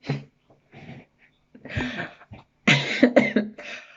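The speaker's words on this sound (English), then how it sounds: "Hope that was not a corona cough." A few rough coughs and throat noises come in short bursts, close and fairly loud, with brief gaps between them.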